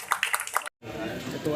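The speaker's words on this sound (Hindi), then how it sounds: "जोरदार तालियों से स्वागत हो।" Audience applause welcomes a speaker at a poetry gathering (kavi sammelan) in Khaga, Fatehpur. A dense, steady wash of clapping rises after a brief silence, following a short stretch of voice.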